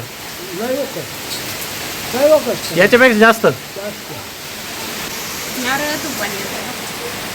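Heavy monsoon rain pours in a steady, dense hiss throughout in a village that flooded, while people talk over it now and then.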